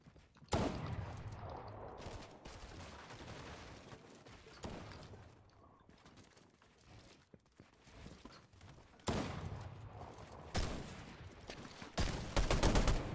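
Bursts of rapid gunfire in the video game Fortnite, with dense fusillades of shots coming in clusters, some loud and close, others softer, separated by short lulls.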